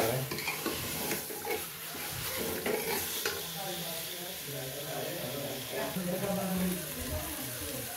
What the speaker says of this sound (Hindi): मसाले में भुना रहा है, भुना जा रहा है।